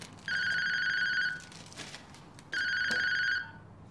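Telephone bell ringing indoors, two steady electronic ring bursts of about a second each separated by a pause, moderately loud over a quiet room background.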